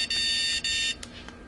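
A Petrainer PET998DB electronic dog training collar in beep mode gives two short, shrill, buzzy beeps in quick succession, close and loud, then goes quiet.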